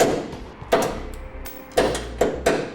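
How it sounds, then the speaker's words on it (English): Bolts on a Westin Fey Surestep rear bumper being tapped out, giving several sharp metallic knocks spaced irregularly with quieter rattles between them, close by. "We'll go ahead and hold the bumper while we tap out the bolts"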